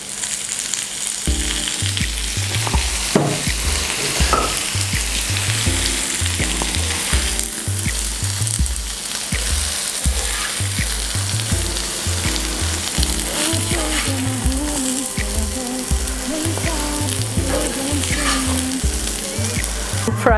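Taro root frying in oil in a pan, a loud steady sizzle running throughout with a regular thumping rhythm underneath, close and continuous with no voices.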